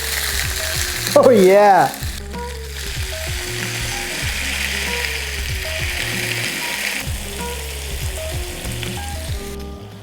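Lasagna sizzling and crisping inside a waffle maker, a steady hiss under faint background music, with a short exclamation from a voice near the start.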